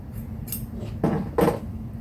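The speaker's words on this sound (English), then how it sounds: "So I'm just going to cut this off at the end." Scissors cut through quilting fabric while a quilt block is being made, giving a quiet snip and then two louder crisp cuts close by. No one speaks.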